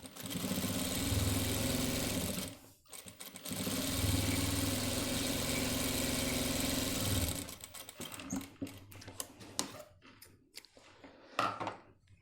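Sewing machine stitching a shirt sleeve: two long bursts of steady motor whir, close and even, separated by a short pause, then irregular short runs and clicks as the stitching stops and starts.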